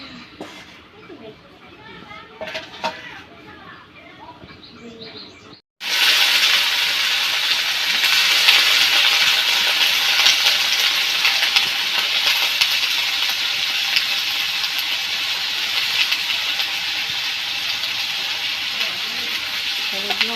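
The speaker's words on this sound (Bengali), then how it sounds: "এখন একটু আলুগুলোকে একটু হালকা করে ভেজে নেওয়া হবে।" Potatoes hit hot oil in a village-style kitchen and set off a loud, steady sizzle that runs unbroken. It follows several seconds of quieter background sounds with a voice speaking.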